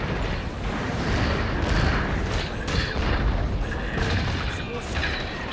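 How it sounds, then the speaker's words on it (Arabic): A boss fires cannons in the Metal Gear Solid video game, a dense continuous rumble of booming blasts and bursts filling the whole stretch, loud and close. "هو الى الان يضرب في المدافع حقته علي"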